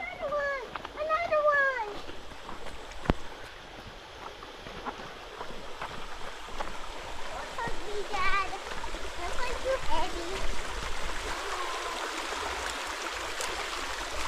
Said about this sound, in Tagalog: First time niya maglakad dito sa sapa.